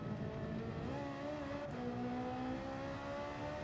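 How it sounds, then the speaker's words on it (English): A race car engine in a racing game drones steadily up close, its pitch stepping down and then holding as the driver drops gears, with no talking. "downshift, downshift, downshift into second"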